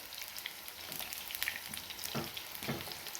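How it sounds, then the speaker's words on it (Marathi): Eggplant pieces fry in hot oil with a soft, steady sizzle and crackle, sprinkled with faint pops and light clicks. "आपण तेलामध्ये ही वांगी घातलेली आहेत"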